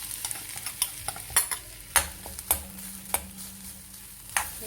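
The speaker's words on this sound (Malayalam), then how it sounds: "ഇനി നമ്മൾ ചിരകി വെച്ച തേങ്ങ അതിലോട്ട് ഇടാം." Grated coconut fries in a pan for chena theeyal, a yam curry, giving a steady close sizzle broken by repeated sharp scrapes and knocks of a spoon stirring.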